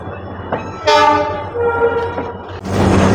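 The Garib Rath Express, Tripura's first electric train, leaves Agartala on a curve and gives a loud, sustained horn blast over the rumble of the rolling carriages, followed by a louder surge of running noise.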